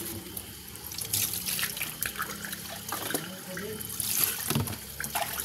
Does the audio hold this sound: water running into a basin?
yes